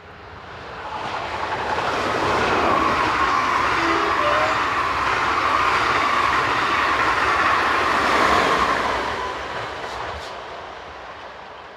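A Belgian Intercity service, the 1608 from Jean-Saint-Péter to Genk, roars past up close as a steady loud rush of wheels and carriages, swelling in and fading out over about twelve seconds with no talk.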